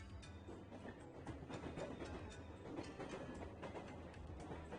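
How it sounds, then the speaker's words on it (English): Train sound effect from the Senran Kagura Burst Re:Newal video game, a steady rumbling rail ride with faint rhythmic clatter and mechanical rattle, moderately quiet, with no speech. "the train sound effect threw me off"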